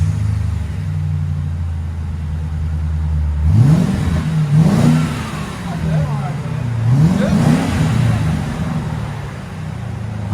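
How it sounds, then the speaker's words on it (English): A Ford Crown Victoria 4.6L V8 with Marauder exhaust idles with a deep rumble, then revs up twice in sharp rising bursts that fall back, loud and close. "It's got the Marauder exhaust on it."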